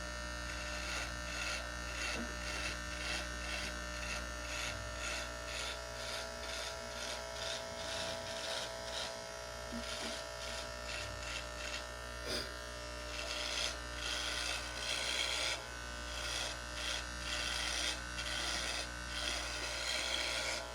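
Electric clippers buzz steadily and close while shaving a head, a continuous hum with small shifts as the blade passes over the scalp.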